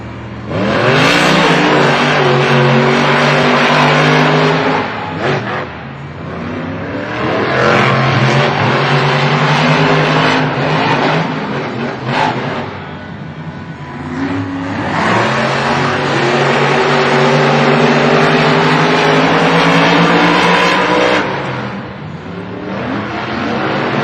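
Monster trucks racing in Saturday night JCB Racing qualifying at the Monster Jam World Finals 2025, loud roaring engines revving and surging in long waves, with a brief dip in the middle before another full-throttle run.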